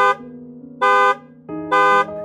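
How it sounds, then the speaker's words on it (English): A car horn honks three times in a row, loud and close, each blast about a third of a second long over a low, steady engine hum. "As the horn sounded for the third time"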